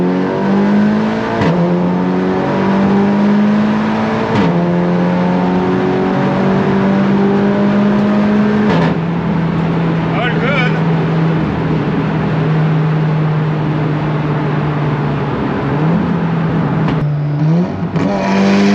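A 550 bhp Audi S3 with an EPC warning fault accelerates steadily onto a motorway with a strong, loud droning tone, pitch rising and dropping through several gear changes over continuous road and wind noise.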